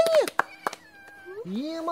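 A cat meows several times, short and high-pitched, over a few seconds, with a longer drawn-out meow near the end. A person talks at the same time.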